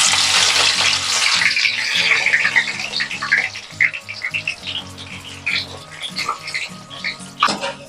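Thinly sliced onions sizzle steadily in hot oil for Hyderabadi Muharram qubooli, a dense hiss of frying with scattered crackles and pops throughout, over a low tonal hum in the background.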